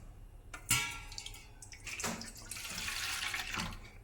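Tamarind water is poured and mixed while preparing kappa pani puri. Splashing and trickling liquid comes in uneven bursts, with a sharp splash early on, then a steadier run of pouring close by.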